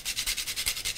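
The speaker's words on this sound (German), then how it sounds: "Einfach frisch gerieben. Bei Muskat bin ich immer ein Freund vom frischen Reiben." Fresh nutmeg rubbed across a grater, making about eight quick, evenly paced rasping strokes over one second, close and clear with no talk.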